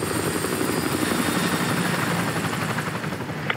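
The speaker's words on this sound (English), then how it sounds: "Enemy helo patrolling the perimeter." An enemy helicopter flies overhead in Call of Duty Modern Warfare 2, a steady loud rotor thrum with rapid chopping pulses and engine whine, continuous throughout with no speech.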